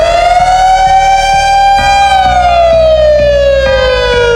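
WS3000 warning siren, very loud and close, a continuous piercing wail that rises slightly, holds, then slowly glides downward, with a steady mechanical rumble underneath throughout.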